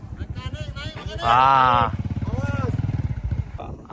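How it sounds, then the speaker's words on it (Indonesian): Motorcycle engine running close by, a steady throbbing rumble throughout with a brief louder rev in the middle, while people talk over it. "Ini motor Raja Motor."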